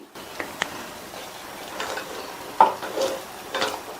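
Milk being stirred into payasam in a pot, with soft irregular scraping and clinks of a spoon against the metal sides, quiet and close, a few louder knocks near the end.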